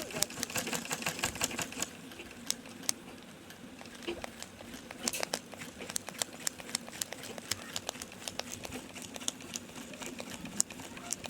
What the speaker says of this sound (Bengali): ফুলটায় আমি ভরার সেলাই দেব।